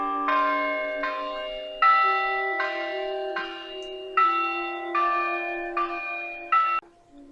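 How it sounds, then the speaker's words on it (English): Church bells at Mission Carmel, which has two bell towers and nine bells, ring out loud and near in a steady sequence of about eight resonant strikes with long, overlapping hums, and no voices. "There are 2 bell towers and 9 bells at Mission Carmel."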